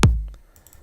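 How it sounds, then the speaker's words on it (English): A single punchy kick drum sample from a dance track's drum loop thumps with a deep, booming low end that decays quickly, then a second kick hits right at the end. "Let's start with the kick once again."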